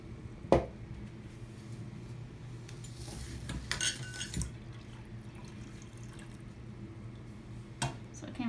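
A liquid solution is poured into a container for an iodine clock reaction chemistry demonstration, giving a short burst of splashing and trickling with faint clinks of glassware in a quiet room.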